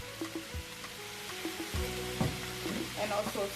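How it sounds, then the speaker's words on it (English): Chicken, bean sprouts, bell pepper and tomato stir-fry in a pan, with a steady sizzle broken by scraping and clattering stirring strokes, close and brief. "Give it a nice gentle stir once again."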